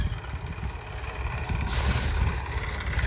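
A steady tractor engine rumble chugs along close by, low and continuous, with a rougher rise partway through.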